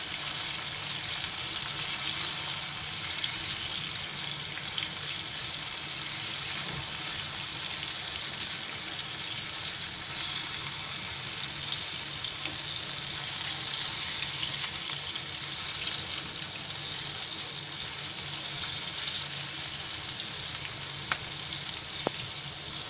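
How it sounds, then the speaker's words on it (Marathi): Thick tuna (kupa) fish slices fry in a pan with a steady, loud, even sizzle that holds close and unbroken throughout, with no one talking. "असे छान मग भाजतात, आतून बाहेरून आहे ना ते शिजायला लागतात."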